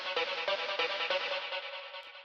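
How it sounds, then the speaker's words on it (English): A solo trance transition synth built in Ableton Wavetable: bright, buzzy chord stabs pulsing in a quick even rhythm, then easing into a fading sustained tone, with no other instruments. "So let's hear the transition synth one time solo."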